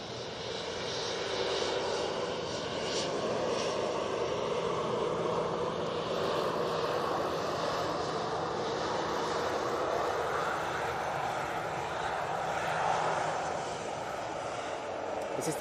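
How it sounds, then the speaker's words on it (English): An EasyJet airliner passes close by at Manchester Airport, its engine roar a steady, loud broadband rumble that swells slightly and holds throughout without pause. "Easyjet's coming past. It's going to go right past us."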